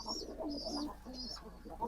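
Pigeons coo softly while feeding their chicks, a few low rolling calls repeating close by in a quiet space.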